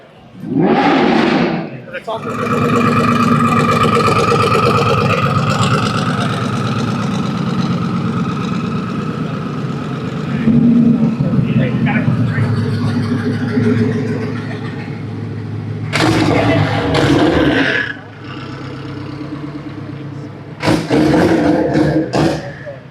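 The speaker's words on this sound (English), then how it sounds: "Couple of Turbo Coyotes and a Turbo Honda Civic, all with hood vents for the exhaust system." Turbocharged Ford Coyote V8s and a turbo Honda Civic, all with hood-vented exhausts, idle loudly and blip their throttles at an outdoor car show, several close revs swelling in bursts between steadier rumbling.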